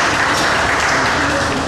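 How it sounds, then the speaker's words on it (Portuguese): Spectators at a Brazilian snooker championship in São Luís clap after consecutive shots, a loud, dense burst of applause filling the short moment, with some voice mixed in. "O pessoal aplaude."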